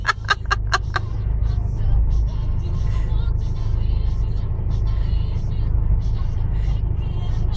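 A Peugeot is pushed through flood water on a street during the July 2012 Castleford floods, a low, continuous engine rumble with a few sharp bird-like chirps at the start and faint voices nearby.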